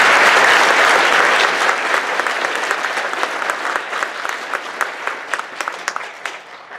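An FFA banquet audience applauds in a loud, dense burst that slowly thins into separate, sharper claps before dying away.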